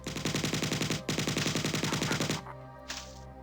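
An alien weapon fires in rapid bursts in Bungie's Marathon 1: a fast, loud, evenly pulsing stream with a brief pause after about a second, then a sharp stop.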